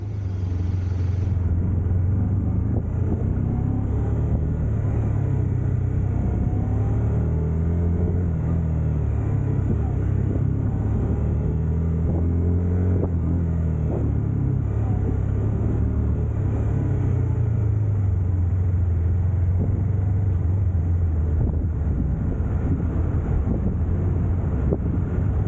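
A beginner-size Honda motorcycle rides in first gear only at an outdoor training course in rain or shine, a steady low engine drone with throttle swells, heavy wind buffeting on the microphone throughout.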